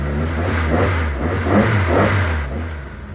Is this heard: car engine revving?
yes